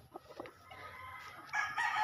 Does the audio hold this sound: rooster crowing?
yes